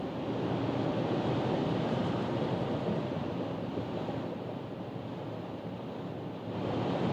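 A Dacia Duster 2024 4x4 with a 130 hp engine cruising at 160 km/h, heard as a steady, loud roar of wind and road noise with no speech.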